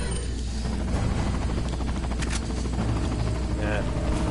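Helicopter in the video game Resident Evil 4, a loud, steady rotor thump and engine drone filling the scene, with scattered bursts of game effects and someone talking over it.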